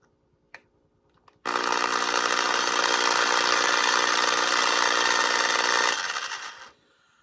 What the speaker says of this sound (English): So I'm gonna hold it down flat as I drill the hole.